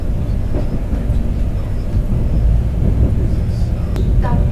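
A train rumbles past at a large station on the Tallinn to Tartu line in Estonia, a loud continuous low roar throughout with faint higher clanks near the end.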